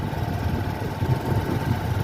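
A motorcycle engine idling on a sandy beach by the sea, a steady low rumble heard up close, continuous and even, with no talking.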